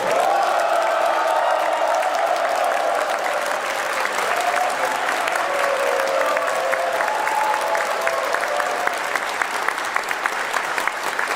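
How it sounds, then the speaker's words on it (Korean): A large audience applauding to welcome presidents at a Korean community gathering in China, sustained dense clapping with a few cheers, steady and loud throughout. "대통령 네 분의 환영을 큰 박수로, 큰 한으로 맞이해 주시기 바랍니다"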